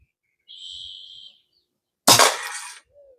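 A Red Ryder BB gun is fired at a can: a short metallic ring sounds first, then a sharp, loud crack and clatter of impact that decays over about half a second, followed by a faint tone.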